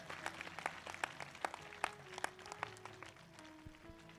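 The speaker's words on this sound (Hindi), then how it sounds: "जोरदार ताली बजाकर प्रभु को धन्यवाद दें" A church congregation claps at a prayer service, a fairly faint, scattered run of sharp hand claps in an uneven rhythm, with soft sustained tones underneath toward the end.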